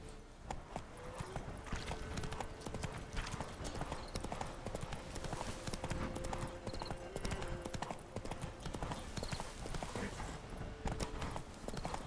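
Hooves of Roach, a horse in The Witcher 3, clip-clop in a quick, even galloping rhythm throughout, fairly close and steady, with faint game ambience behind and no talk.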